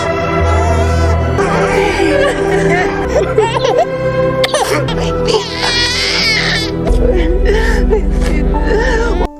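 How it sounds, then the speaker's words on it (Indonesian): A newborn baby cries in gasping, whimpering bursts with sobbing breaths, close and loud over a busy background of music and other sounds. "saat ia mendengar tangisan buah hatinya"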